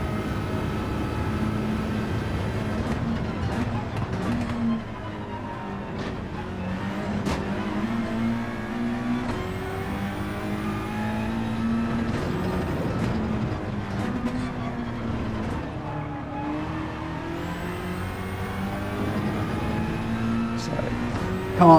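Race car engines from Gran Turismo 7 roar continuously through a lobby race, with rising and falling revs, gear shifts and several cars overlapping close by at steady loud volume.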